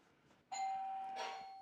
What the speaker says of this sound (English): I'm going to ring the doorbell again.